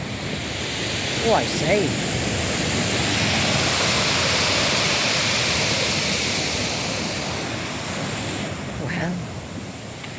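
Sea waves wash steadily along the Aberystwyth promenade at night, a broad continuous surf roar with some wind noise, while a person briefly speaks and exclaims over it near the start and end.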